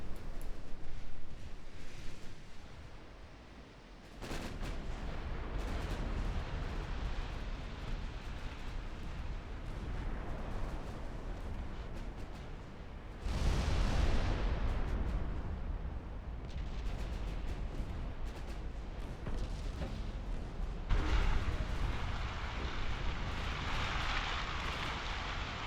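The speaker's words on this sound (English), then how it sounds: "This was a pretty good torpedo strike from those two destroyers. I think that's a dead battleship." Deep rumbling explosions from a destroyer torpedo strike on a battleship in the naval video game Ultimate Admiral Dreadnoughts, with several heavy booming blasts swelling over a constant roaring sea-and-battle background, without talk.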